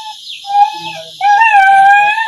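A sick dog whimpers and whines in high, wavering tones, with a longer sustained whine in the second half, close by.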